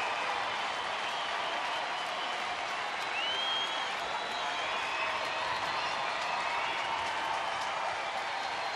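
Crowd at a Houston at Texas baseball game in a stadium, a steady wash of cheering and clapping that holds evenly for several seconds, broad and distant, with a faint whistle-like tone partway through.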